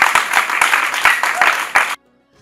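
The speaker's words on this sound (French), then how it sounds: "On applaudit pour Manhattan, s'il vous plaît." A studio audience at a teen talent show claps loudly in a dense, steady burst for about two seconds, then cuts off abruptly into near silence.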